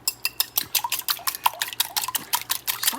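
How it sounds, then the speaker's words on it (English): Two cracked eggs whisked in a bowl: a quick run of sharp, bright clinks of whisk or utensil against the dish, repeating steadily and close up, with no talking. "And we're going to whisk it."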